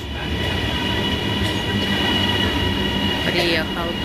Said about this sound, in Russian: приехал поезд.